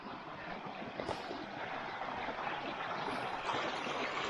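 Stream water flowing off a path near the Golden Dagger Tin Mine on Dartmoor, a faint, steady rushing trickle that continues throughout with no talk.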